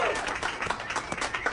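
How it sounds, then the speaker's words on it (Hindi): A comedy club audience claps and applauds for a comedian, a dense steady wash of hands, loud and close, lasting through the short stretch without a break. "एलिसा हेरल्डसन के लिए जोरदार तालियां"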